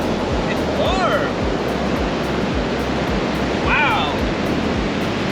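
Warm ocean surf breaks and washes on the beach at West Palm Beach, Florida, a steady close roar of waves with a brief exclamation from a person.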